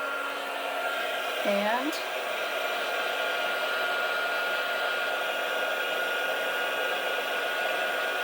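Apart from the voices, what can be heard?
heat tool melting embossing powder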